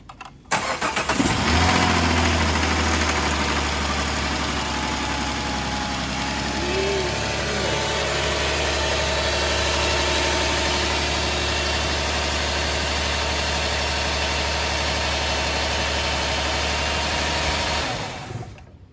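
A 2009 Dodge Charger 2.7 engine cranks and catches after a water pump and timing chain job, then settles into a steady, loud idle with a deep rumble that runs for many seconds before shutting off.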